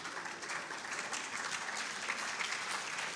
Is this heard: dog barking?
no